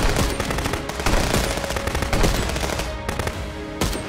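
Dense, continuous automatic gunfire from the video game Contraband Police, loud and close, with rapid overlapping bursts across the whole stretch and a brief gap near the end.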